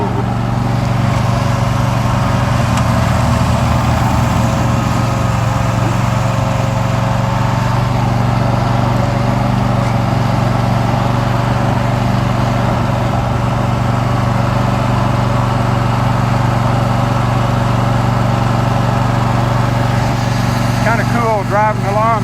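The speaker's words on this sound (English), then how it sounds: "driving the lawnmower." The engine of a riding lawn mower drones steadily and loudly while it is driven, a constant low hum that runs through the whole stretch with no break.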